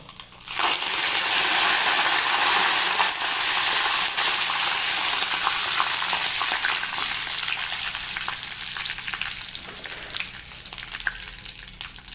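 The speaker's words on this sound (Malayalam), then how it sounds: "ഇനി നമുക്ക് ഉണക്കമുളകും കറിവേപ്പിലയും ചേർക്കാം കേട്ടോ." Dried red chillies and curry leaves dropped into hot oil already crackling with mustard seeds, bursting into a loud, dense sizzle that stays intense and steady before easing slightly, close up with no voices.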